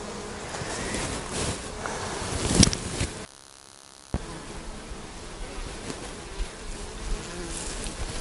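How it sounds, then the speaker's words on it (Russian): Bees fly around homemade hives at an abandoned apiary in garden plots near Krasnodar in autumn, giving a steady close insect buzz throughout, broken by a brief near-silent gap partway through. "Но вот там пчелы летают."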